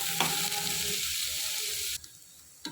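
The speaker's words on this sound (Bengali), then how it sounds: "পেঁয়াজগুলোকে আমি একটু ভালো করে ভেজে নিচ্ছি" Onions frying in oil in a pan for a Bangladeshi hilsa fish dish with lime leaves, a steady close sizzle with faint stirring clicks that cuts off abruptly near the end, then briefly returns.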